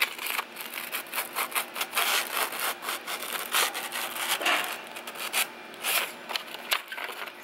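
Abrasive pad pinched and dragged around a glazed brake rotor, giving repeated rhythmic scraping strokes, fairly quiet and close, with no talking.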